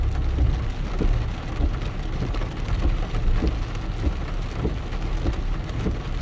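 Steady rain pouring down in Itapema, Santa Catarina, Brazil, a dense continuous hiss with low rumbling underneath and no voices.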